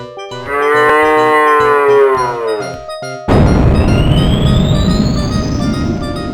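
A cow moos in the DOS game Innocent Until Caught 2: Guilty, one long loud low moo that bends downward in pitch, followed by a burst of broadband game noise with a rising tone.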